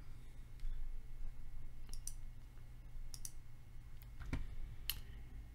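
A mouse click sounds on the Setup button in the Unity editor, a few sharp, faint clicks spread across a quiet background hum with no talking.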